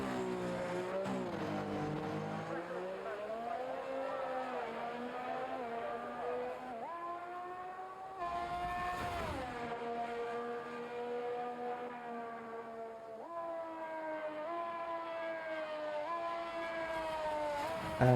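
A race car engine screams through a hot lap at Monza in a racing video game, revving high and dropping pitch at gear changes and braking points, sustained and close throughout.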